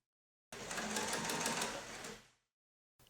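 A sewing machine topstitches a jeans waistband in one steady run of about two seconds, close and loud, then stops, with a brief restart at the very end.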